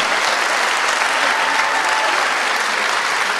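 An audience at the 2-Handi Awards 2013 ceremony applauds, a dense, loud, sustained roar of clapping filling the room evenly from start to finish with no pause.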